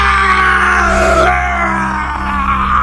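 A woman in a Hindi horror story lets out a sustained, loud anguished scream that wavers in pitch and dominates the moment, with a low steady drone beneath.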